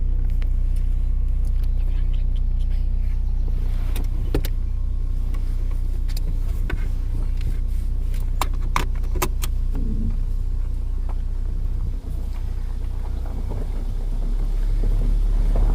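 A Saab 9-3 driving on a narrow single-lane road, its engine and road noise forming a loud, steady interior rumble with wind buffeting, plus occasional clicks and rattles.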